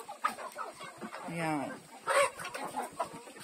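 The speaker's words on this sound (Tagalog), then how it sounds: "Daming manok." Many chickens cluck while being fed at a family home, the clucks mixed with people talking nearby.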